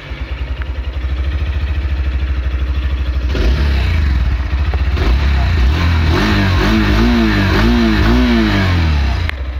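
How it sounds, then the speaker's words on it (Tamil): A Hero Xtreme 160R motorcycle exhaust is recorded up close. It idles with a steady, throbbing pulse, then the rider blips the throttle in several quick rising-and-falling revs before settling back. "இப்போ வந்து இந்த வண்டியோட நம்ம எக்ஸாஸ்ட் சவுண்டு கேட்போம்"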